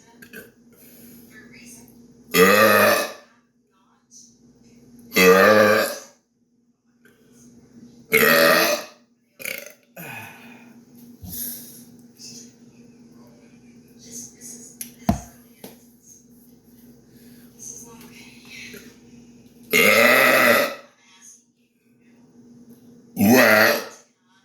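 A man lets out a series of loud, long burps, about seven in all, spaced several seconds apart, with brief mutters and small noises between them.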